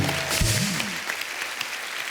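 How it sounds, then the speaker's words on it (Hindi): Studio audience at a TV comedy show applauds in a brief burst, with a short vocal whoop at the start before the clapping carries on. "तो एक बार फिर से अपनी अपनी मम्मी के नाम पे ताली हो जाए।"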